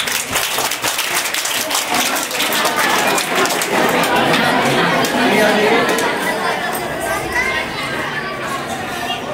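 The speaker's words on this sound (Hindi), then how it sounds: "जम की तालियां बजाएंगे।" An audience at a school magic show claps and cheers in a dense, sustained burst that swells and holds, with crowd chatter mixed throughout.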